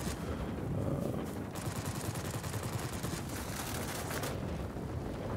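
Aircraft machine guns firing in World of Warplanes, a Skua plane strafing soft ground targets: a dense, steady rattle of rapid bursts running almost the whole time, moderately loud under engine drone, with no talk.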